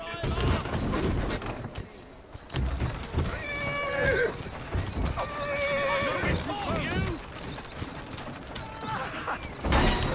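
A horse in the video game Assassin's Creed Syndicate whinnies loudly several times in the middle of the clip, over clip-clopping hooves and mechanical clatter, with a voice talking throughout.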